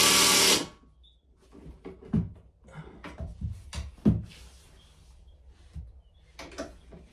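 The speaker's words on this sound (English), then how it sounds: "I'm gonna try and see if I can just get it out with the drill." A power drill works at a stubborn bolt on a school bus seat rail, giving a short loud whir followed by scattered clicks, clanks and metallic knocks from the bus interior.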